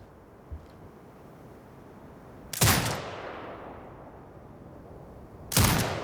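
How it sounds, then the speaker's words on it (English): Turret firing in the Sniper Ghost Warrior Contracts 2 video game: two loud, heavy booming shots a few seconds apart, each with a long rumbling tail fading out over a quiet background. "Exit binocular mode and command the turret to fire."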